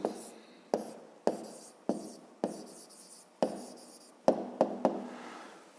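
Chalk or marker strokes on a classroom board during a fifth-grade maths lesson on rays, with sharp taps at each stroke start and scratchy strokes after, repeating about ten times close by with no talking.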